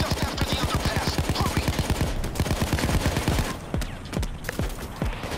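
Automated turret in Payday 2 firing rapid, regular bursts of gunshots up close, a dense rattling stream that thins after a few seconds with scattered shots continuing.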